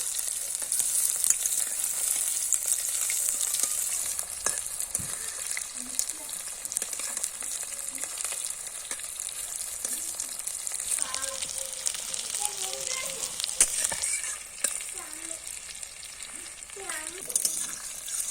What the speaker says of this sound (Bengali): এগুলোকে আমি এক এক করে এবার উল্টিয়ে উল্টিয়ে ভেজে নেবো